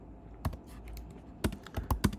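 Keystrokes on a computer keyboard while typing code, coming as a single tap then a quick cluster of several clicks, fairly close and moderately quiet over a low room hum.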